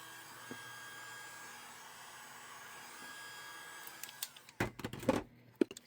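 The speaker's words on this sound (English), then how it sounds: "I'm going to run my heat gun over it right quick" A heat gun blows steadily over resin coasters with angel inlays, a close, even whoosh for about four seconds before it cuts off, leaving a few sharp clicks and knocks.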